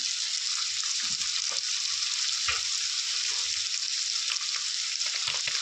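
Potatoes frying in a pan give a steady, continuous sizzle with some faint stirring clatter throughout, close and moderately loud with no talking.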